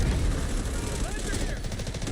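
Dense gunfire and explosions in a multiplayer war game match, a continuous loud barrage of rumbling blasts and rapid shots throughout.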